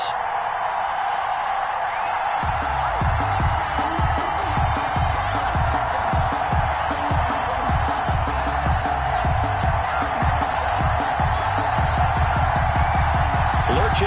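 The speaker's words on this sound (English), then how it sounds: "This crowd is ready" Stadium crowd noise from an EA Sports NFL video game on PS4, Giants versus Falcons, a steady loud roar of cheering fans that holds throughout, with a low rhythmic pulse joining after the first couple of seconds.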